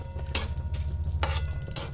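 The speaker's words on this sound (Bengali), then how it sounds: "এবার চিনিটাকে আমি ভালো করে নেড়ে নেব একটু।" Sugar stirred into hot ghee in a wok for sweet jarda pulao, a low sizzle running throughout with a few sharp spoon scrapes against the metal, close and fairly quiet.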